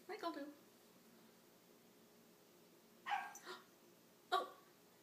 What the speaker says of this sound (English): Yeah, he just wants to bark at you, doesn't he?